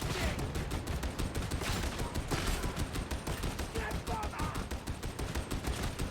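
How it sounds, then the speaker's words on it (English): A .50 caliber heavy bolt-fed stubber fires in the game Darktide: dense, continuous rapid gunfire with sharp repeated reports, loud and steady throughout. "I love this 50 caliber rifle. 50 caliber heavy bolt fed stubber."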